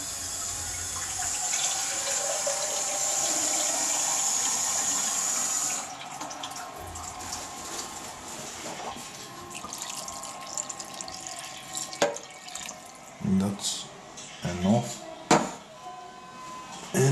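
Cold tap water runs steadily into a kitchen sink while Bulgarian sarmi are being made, a broad continuous rush for several seconds that then gives way to scattered clinks of dishes and handling noises, with a voice talking.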